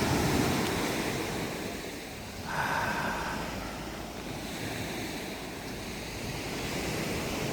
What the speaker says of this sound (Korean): 바다입니다. 바다. 물을 보면 마음이 평안해집니다.